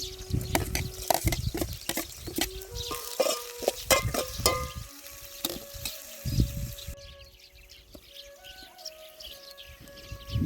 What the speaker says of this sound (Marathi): मिरची टाकून घेत आहे आता